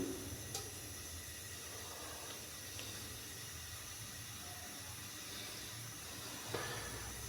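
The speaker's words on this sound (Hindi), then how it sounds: "तो इसके अंदर प्याज डाल देंगे।" Two chopped onions hit hot oil in a pan for a white chicken korma, giving a steady, fairly quiet sizzling hiss that holds evenly throughout with no one talking.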